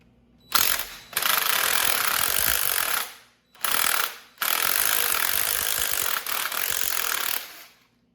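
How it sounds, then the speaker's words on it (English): A ratchet undoes the sump oil pan bolts on a 20HP Briggs & Stratton engine, giving loud, rapid, close clicking in several long bursts separated by short pauses, with no talking. "Undoing the bolts I showed you guys."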